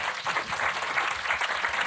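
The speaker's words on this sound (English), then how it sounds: "Round of applause." A brief burst of audience applause, close and full, with dense overlapping claps throughout.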